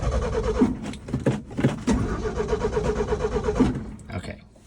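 A 1979 Ford service truck with 46,000 original miles cranks but fails to start, the starter churning in a rapid rhythmic whirr broken by short pauses, close and fairly loud.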